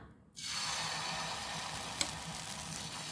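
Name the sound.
dosa batter poured thin onto hot pan, sizzling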